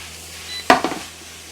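A metal spatula strikes a heavy wok twice in quick succession while egg is mixed into fried rice, sharp clanks ringing briefly over a low kitchen hiss, with no talking.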